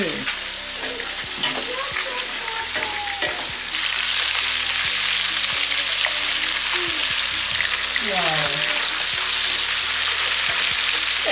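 Mushrooms and mixed vegetables sautéing in butter in a pan for dinner, a steady loud sizzle that swells as more vegetables go in, with stirring scrapes and clinks throughout and no talk.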